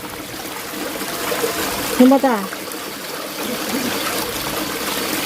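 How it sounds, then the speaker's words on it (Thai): Water rushes steadily at the foot of a waterfall, a constant close hiss and splash that a person briefly talks over. "ปลายน้ำตก"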